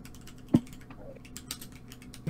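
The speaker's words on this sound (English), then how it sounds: "I'm typing into the wrong search box here." Sparse, soft keystrokes on a computer keyboard, a few isolated clicks with one sharper tap near the start, close and fairly quiet with no talking.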